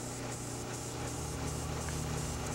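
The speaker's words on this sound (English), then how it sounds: "This time, increasing the volume of paint coming out of the airbrush by a small amount." An airbrush sprays lacquer paint onto a plastic WWII model aircraft kit, giving a faint, steady hiss that runs unbroken throughout.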